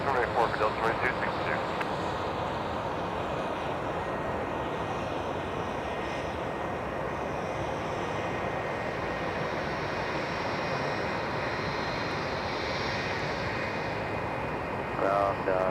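A Bombardier Challenger business jet departing on a taxiway, its engine roar steady and loud throughout, with a voice talking over it.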